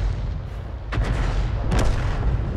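A tank cannon fires in a video game during an artillery match, two sharp booming shots about a second apart standing out over a steady, loud rumble of engine and battle noise.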